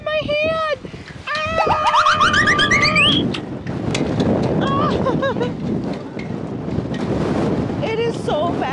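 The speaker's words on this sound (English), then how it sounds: "I know, it's so windy" Strong wind buffets the microphone in a loud, continuous rumble while flying a kite, with excited voices and squeals talking over it.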